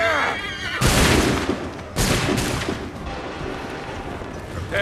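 Loud musket volleys crack out in an Assassin's Creed 3 battle, two broad bursts about a second apart followed by scattered shots and rumbling battlefield noise, with a horse whinnying faintly at the start.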